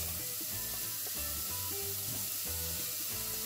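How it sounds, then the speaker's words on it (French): Sausages sizzle in a hot pot for stuffed butternut squash, giving a continuous close frying crackle under a looping tonal background with a few mechanical clicks, no talking. "En commençant par mettre les saucisses qui vont lâcher du gras."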